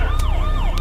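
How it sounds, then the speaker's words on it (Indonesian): Police siren played from a mobile phone, a loud, close wailing tone sweeping up and down over a rumbling background in a short burst. "tiba-tiba terdengar suara sirine polisi"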